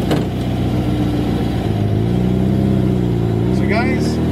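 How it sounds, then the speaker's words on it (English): Air-cooled VW engine with Speeduino fuel injection running, a loud steady idle rumble with a rising rev toward the end and a brief voice near the close. "I converted this air-cooled engine to Speeduino fuel injection"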